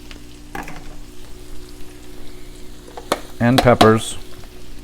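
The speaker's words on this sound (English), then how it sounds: "We can start cooking sauteing our onions" Onions and peppers sauté in a pan for savory shrimp, a soft steady sizzle with scraping stir strokes that swell louder near the end, while someone speaks briefly over the cooking.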